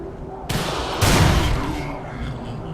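Shotgun blasts in the video game Project Crypt, two sharp broadband bangs about half a second apart, the second heavier with a booming tail that fades over a second or so.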